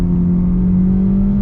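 A 2025 Hyundai Elantra's non-turbo four-cylinder engine with a CVT-style transmission pulls under acceleration, giving a steady, close drone with a strong low hum that holds evenly throughout and has no talk over it.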